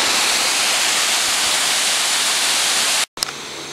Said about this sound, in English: One last video of the first waterfall.